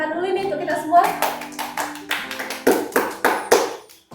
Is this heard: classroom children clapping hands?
yes